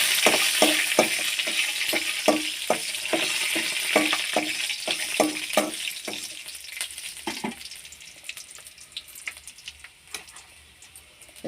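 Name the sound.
dried red chilies frying in pan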